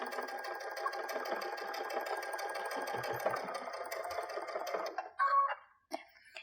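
A sewing machine runs steadily while stitching a patchwork stocking, its needle set to a 3 mm stitch length, then stops near the end with a few brief handling clicks.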